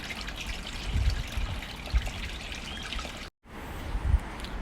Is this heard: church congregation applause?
no